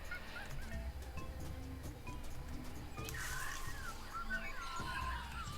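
Bird call from a noisy jungle in the Tales of Monkey Island video game, honking squawks rising over a soft ambient bed in the latter half, faint and brief.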